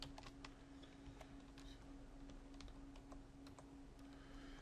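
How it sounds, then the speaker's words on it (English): Quiet, rapid key clicks as a password is typed on a computer keyboard, an irregular run of light taps continuing throughout over a low steady hum. "To log in, all we gotta do is start typing our password."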